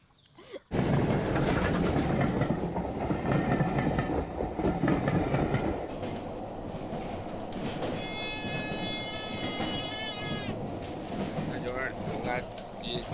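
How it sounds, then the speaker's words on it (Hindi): A train rolls along the rails with a loud, steady rumble and rattle, and a high squeal of wheels joins partway through, while voices speak over it. "अरे बेटा ट्रेन भी छूट जाएगी"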